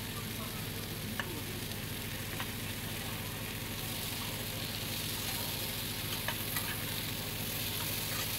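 Chopped bottle gourd sizzling as it fries with pigeon pea dal in a pan, a constant dense crackling hiss with faint stirring clicks, close and even throughout.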